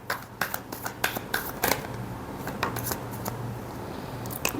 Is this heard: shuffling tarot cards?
yes